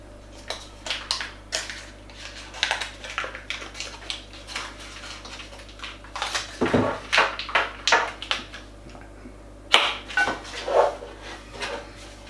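Butter being rubbed into a cast iron pot and a loaf tin before baking bread, heard as close, irregular metallic knocks, scrapes and clatters of the pans being handled, louder around the middle and near the end.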